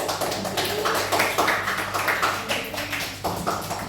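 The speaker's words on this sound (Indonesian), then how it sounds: "Kita beri tepuk tangan untuk kelompok 3" Classroom students clap together for a group, a dense patter of many hands that swells and dips in waves over steady low room hum, fairly loud and unbroken throughout.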